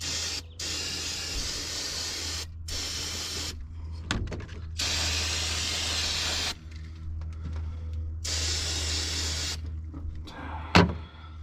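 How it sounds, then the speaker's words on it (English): Brake cleaner sprayed from an aerosol can onto parts, several steady hissing bursts of a few seconds each with short pauses between, close and fairly loud. "I'll take a little bit of brake cleaner."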